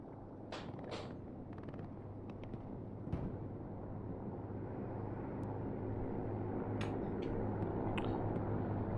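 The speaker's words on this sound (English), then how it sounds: "Reconnaissance plane" A reconnaissance plane in Hell Let Loose flies over the battlefield as a broad, steady engine drone that slowly swells louder. A few sharp clicks and distant pops are scattered over the drone.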